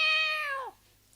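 A child imitates a cat with a single clear, high meow that bends downward and fades out near the end, heard alone.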